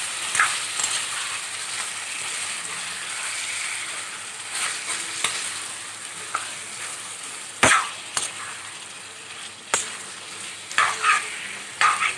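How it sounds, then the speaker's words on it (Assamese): Marinated chicken fries in a pan, giving a steady sizzle with stirring scrapes, and sharp metallic clacks of the spatula grow more frequent toward the end. "এতিয়া মই ইয়াতে দি দিম মেৰিনেট কৰি ৰখা চিকেনখিনি।"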